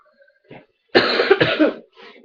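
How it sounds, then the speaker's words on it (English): A person sick with a cold lets out a harsh, close cough in a couple of rough bursts, preceded and followed by faint breaths. "And by the cough."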